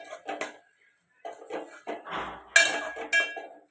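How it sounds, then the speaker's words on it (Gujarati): Garam masala being stirred into sev tameta, a Gujarati tomato and sev curry, in a pan at home: intermittent scraping and clinking of a spoon against the pan in short bursts with brief pauses, moderately close. "હવે આપણે એને સારી રીતે મિક્સ કરી દઈશું"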